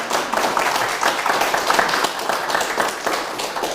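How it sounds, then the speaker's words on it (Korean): Audience applause at a graduate-school open lecture on real estate asset management, a steady dense patter of many hands clapping that fills the room at moderate volume, with no speech over it. "이 대목에서는 박수 한번 나와야 되는데"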